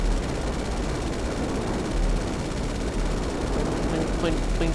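Hydra jet firing its cannon and machine gun in GTA V, a dense, continuous roar of rapid gunfire and explosions over engine noise, with a voice talking over it.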